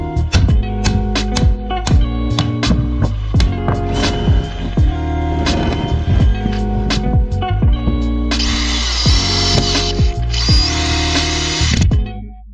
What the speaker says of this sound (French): moi je les visse de l'autre côté, à l'endroit où il appuie